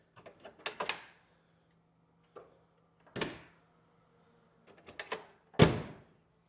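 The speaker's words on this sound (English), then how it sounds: "did you see the door shut?" An old project car that sat in a field for 14 years has its door shut several times: a few light rattles, then solid thunks spaced a few seconds apart, close by and fairly quiet.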